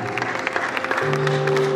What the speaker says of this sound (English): Please keep on clapping.